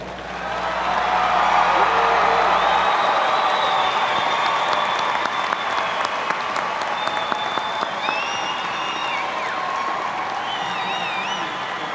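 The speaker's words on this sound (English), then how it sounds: "let's give them one big round of applause" An audience applauds graduates at the OTC 2017 commencement, a dense, loud and sustained ovation of many hands with light cheering and scattered whistles over a brief low hum at the start.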